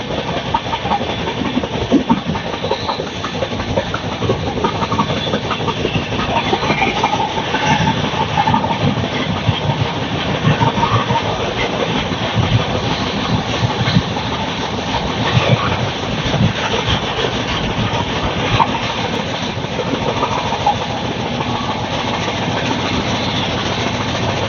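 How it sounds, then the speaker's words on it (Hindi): An AC Special train departs Mirzapur railway station, with a loud, steady rumble and rhythmic clatter of wheels on rails heard from on board, continuous and without speech. "हमारी ट्रेन निकल रही है मुन्ना भैया का शहर मिर्जापुर से"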